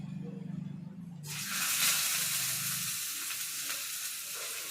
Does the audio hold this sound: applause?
no